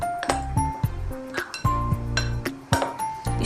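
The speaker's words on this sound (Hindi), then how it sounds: "और हमें इसे अच्छी तरह से मिक्स करना है।" While chicken tikka roll marinade is mixed with salt, a spoon clinks and taps against a glass or metal bowl in repeated irregular strikes, close and bright with ringing tones.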